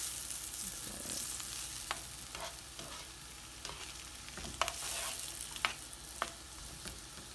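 Onions fry in a pan with a dense, steady sizzle, sprinkled with sharp pops and crackles that sound close and moderately loud, with no voices.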